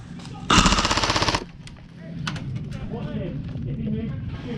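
An airsoft gun fires a rapid burst of shots at close range at an airsoft field, then people speak.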